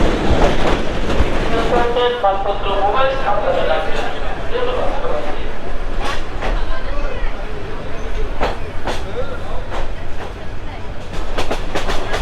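The Jayantika Express train rumbles loudly, with rhythmic clickety-clack of wheels over the rails as it crosses a river bridge, and people talk over the din.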